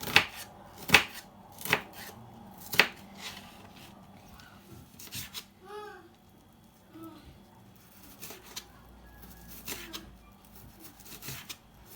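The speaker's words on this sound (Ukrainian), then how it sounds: "Цибульку я стараюся чим потонше нарізати." A knife chops through onion on a board, sliced thinly for a pineapple and corn salad: a few sharp, distinct chops early, then softer, scattered cutting taps, close and fairly quiet.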